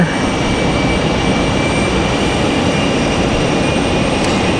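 An Airbus A220 jet departs in stormy weather at Raleigh-Durham International Airport, a loud, continuous broadband engine roar held at steady intensity throughout, with no speech.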